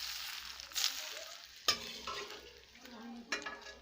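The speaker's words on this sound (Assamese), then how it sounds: "এইখিনিতো মই এই গৰম তেল দি দিম" Hot oil poured over the ingredients for jalphai (olive) pickle, heard as a few sharp sizzling bursts and clinks spaced apart, fairly faint and close, with no voice over them.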